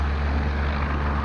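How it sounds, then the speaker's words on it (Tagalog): A Westpac rescue helicopter flies over a beach near Sydney, heard as a loud, steady, low rotor and engine roar close overhead, with no voices. "Helicopter, guys, oh."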